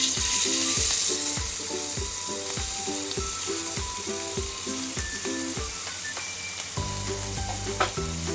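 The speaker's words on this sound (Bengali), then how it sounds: "এরপর এখানে দিয়ে দেবো, তেলটা গরম হয়ে গেছে, এই চিংড়ি মাছগুলো।" Prawns fry in hot sunflower oil with a constant crackling sizzle, punctuated by a steady rhythm of utensil taps as they are stirred, up close and with no talking.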